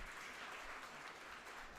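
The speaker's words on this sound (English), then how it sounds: "Can we have a big round of applause," Steady applause from an event audience at a campus tech festival, a dense continuous wash of clapping at moderate distance with no gaps across the whole stretch.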